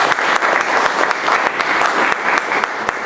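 A brief burst of crowd applause at a public gathering in Trebnje, Slovenia: close, dense clapping with a few sharper individual claps standing out.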